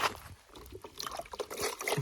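Water trickling and splashing into a bucket beside a fishing spot, a short irregular pour with gurgling bursts at close range and no voices.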